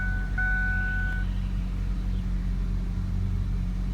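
2004 Ford Focus ZX5 with the Zetec engine and 190,000 miles idling smoothly, a steady low rumble heard up close with a brief faint tone near the start and no talking.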